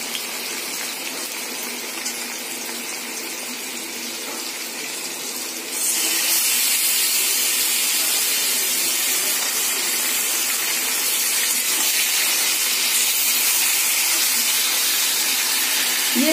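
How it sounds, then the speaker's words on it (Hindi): Marinated chicken hits a hot kadhai for chicken biryani, and a loud, steady hissing sizzle suddenly jumps up and keeps going close by, with no talking. "जो मैंने मैरिनेट करके रखी हुई हूँ वो चिकन मैं अब कढ़ाई में डाल दूंगी"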